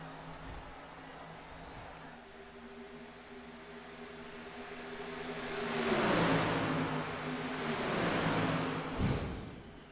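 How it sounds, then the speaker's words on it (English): Silver Crown race cars in iRacing, a pack of engines droning steadily as they run in formation down a back straight, swelling louder and shifting pitch as they pass close by. "Eight cars in formation down the back straightaway"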